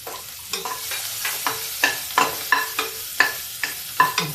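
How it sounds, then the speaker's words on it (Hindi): Onions frying in hot oil with crackled spices in a pan for an Indian vegetable dish, a steady close sizzle broken by regular stirring scrapes roughly every half second, with no talking. "भून देते हैं"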